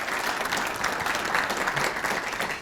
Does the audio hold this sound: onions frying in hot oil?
no